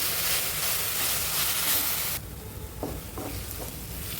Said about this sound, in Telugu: గోంగూర ఆకుల్ని బాగా ఆయిల్లో ఫ్రై చేసుకోవాలి.